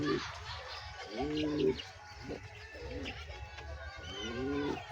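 Pigeons at a pigeon farm coo in repeated throaty, rolling calls close by, several birds overlapping in a continuous murmur with faint background chatter.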